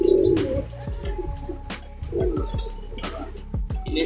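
Pigeons coo in low, repeated bursts close by, kept as domestic birds, with a few brief chirps and clicks over a steady background and no talk.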